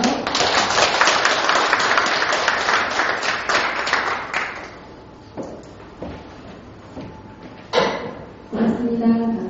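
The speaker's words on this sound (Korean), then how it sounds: "박수를 맞아주세요" A lecture audience at a hospital special talk applauds to welcome the lecturer, a dense burst of clapping that fades after about four seconds, followed by scattered claps and faint shuffling.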